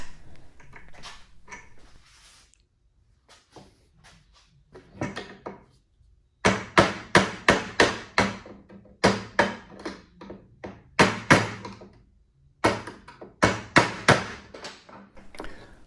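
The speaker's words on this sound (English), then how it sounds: "tap it back into place with the hammer and the screwdriver" Sharp metallic taps from a hammer striking a screwdriver during a 2004-2008 Acura TL window regulator repair, coming in quick rhythmic bursts of several blows with short pauses between groups, close and clear.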